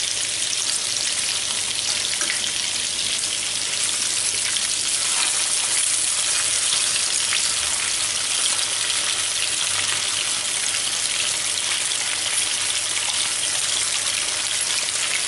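Pork medallions frying in a pan, a steady close sizzle with fine crackling and spitting that runs evenly throughout without letting up.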